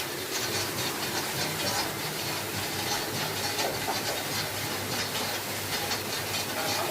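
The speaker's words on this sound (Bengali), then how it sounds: "ছটা কড়ায় চাল তৈরি হয়ে এবং রোস্টারে মুড়ি ভাজা হচ্ছে" A puffed rice roaster machine runs alongside rice-roasting pans in a mill, giving a steady loud hiss and rumble with no break and no voices.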